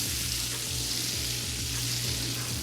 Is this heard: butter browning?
yes